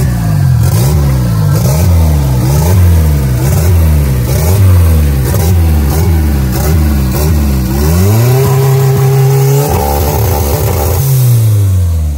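A loud, close turbocharged square-body Volkswagen Gol engine revs repeatedly in quick rhythmic bursts, then holds higher, sustained revs with a raw, unmuffled straight-exhaust growl.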